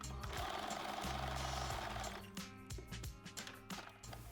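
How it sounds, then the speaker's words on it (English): A sewing machine threaded with a thicker needle stitches piping onto cushion fabric, a close, steady mechanical whir for about two seconds, then shorter stop-start bursts of stitching. "So we're going to sew it towards the inside of our fabric first."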